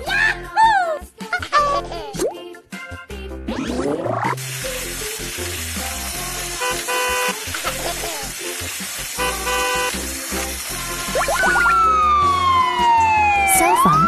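Toy fire truck siren, an electronic wailing tone rising and falling, mixed with crackly noise and bursts of other toy sound effects, fairly loud and close throughout.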